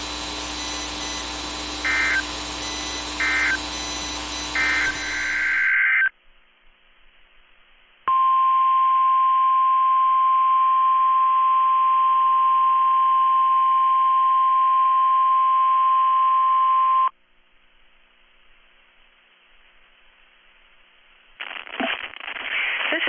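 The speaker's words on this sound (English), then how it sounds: "The preceding signal was a test of the public warning and alarm for transmitters in the Florida listening area" Weather radio public warning and alarm test: harsh digital data bursts, a pause, then a long loud steady single alert tone lasting about nine seconds, followed by a short burst of noise.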